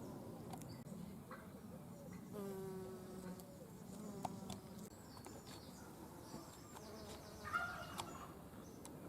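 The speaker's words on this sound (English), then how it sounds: "There's another forest cuckoo bumblebee, male, on scabious." Male forest cuckoo bumblebees buzz steadily on scabious flowers in a May garden, with several close drones rising and fading over a soft outdoor background and faint birdsong.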